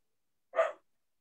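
A big dog gives a single short, breathy bark indoors, brief and moderately close against silence.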